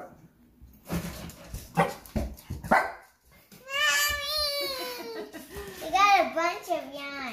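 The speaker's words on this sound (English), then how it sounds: "Any minute, the dog's probably gonna bark" A dog barks a few times, then whines and yips in rising, wavering cries, with someone speaking nearby.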